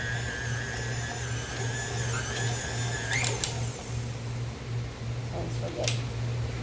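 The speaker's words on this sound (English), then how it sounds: "Let's take a look at our mixer here." A stand mixer kneads pizza dough with a steady motor hum and a rhythmic pulsing thump as the dough turns, close and continuous, with brief higher clicks and squeaks.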